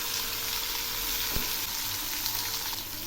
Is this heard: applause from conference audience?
no